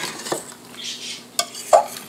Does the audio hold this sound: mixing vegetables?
yes